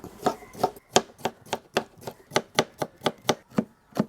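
A knife chops cabbage for thoran on a cutting board in a quick, even series of about thirteen sharp, close knocks. There is no speech.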